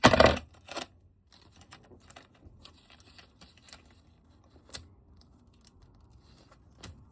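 Scissors cut through sticker paper in a home craft setting: a loud initial snip, then a series of quieter, irregular clicks and crisp paper snips spaced across the rest of the moment, with no talking.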